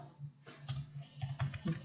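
Keys clack briefly on a computer keyboard as values are entered into CAD software, a handful of quiet, close taps with no talking.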